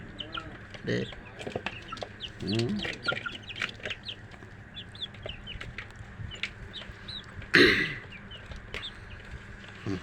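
Roosters and hens cluck and call on a farm, with repeated short clucks and crowing-like calls scattered through, a louder burst of wing flapping or squawking near the end, and a voice speaking faintly underneath.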